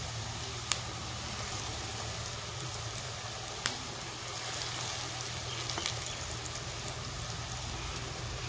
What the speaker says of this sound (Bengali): সবগুলো আমি এভাবে ভেজে নেব